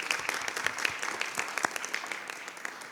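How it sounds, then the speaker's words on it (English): An audience at a school board meeting applauds steadily, a dense crackle of many hands clapping at moderate distance for a few seconds before it begins to thin out. "Let's give Beulah a round of applause."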